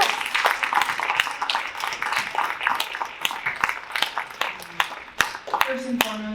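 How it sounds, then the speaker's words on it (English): Applause from an audience for speakers at a college event, a moderate, scattered clapping that thins out over several seconds, with someone talking near the end. "Can I get one more round of applause for our amazing speakers?"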